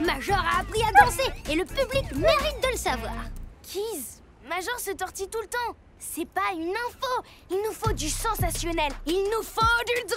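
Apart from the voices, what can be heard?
None of the usual background noises is heard.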